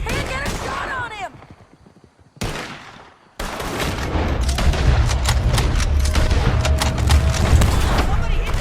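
Heavy gunfire in a Red Dead Redemption 2 shootout: a sharp opening burst, a brief lull, then sustained loud volleys of shots and booms with raised voices talking underneath.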